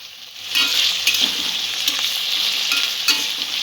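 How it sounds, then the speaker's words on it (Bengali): Chopped vegetables, including onion, fry in hot oil in a pan for a fish curry, giving a loud, steady close sizzle with occasional stirring scrapes and pops. "সবজিটা একটু ভাজা ভাজা করে নেব।"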